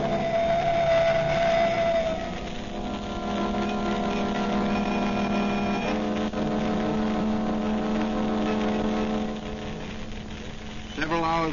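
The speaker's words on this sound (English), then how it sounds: "Here comes the crash ambulance." A crash ambulance arrives at a plane wreck in an old radio drama, its engine droning loud and steady for about eleven seconds with sustained tonal whines over it.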